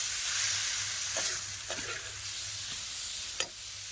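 Bedgi chillies cook in a pan after a splash of water, giving a steady close hiss and sizzle broken by a few soft stirring scrapes, with no talking.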